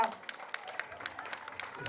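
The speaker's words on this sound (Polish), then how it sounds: "Ogromne brawa!" Spectators at a charity road race clap for a runner nearing the finish, about eight sharp, evenly spaced claps ringing out fairly close over a quiet outdoor background, with a voice faintly present.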